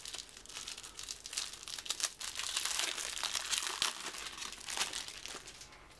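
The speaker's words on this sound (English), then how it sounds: "We'll open the other deck and take a look at these." Crinkling, tearing plastic wrap comes off a deck of American Idol trading cards, a close, quiet run of crackles and rips heard on its own.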